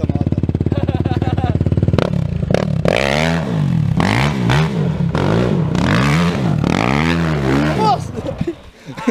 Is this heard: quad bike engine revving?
yes